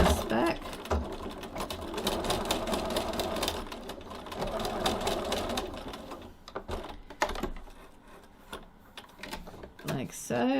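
A sewing machine stitches a tote bag strap near a D-ring in rapid mechanical bursts, pausing and reversing a few short steps. Its whirring stops and starts, with brief gaps and handling noises between runs.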